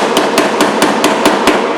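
Bullet-holed sheet metal is struck with a hammer using glancing, deflecting blows: seven sharp metallic taps land at an even, quick rhythm, loud and close.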